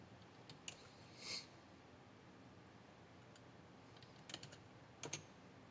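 Soft keystrokes on a computer keyboard are typed into a hotel reservation system and sound faint, with a few sparse clicks and small clusters of taps against a quiet background hiss.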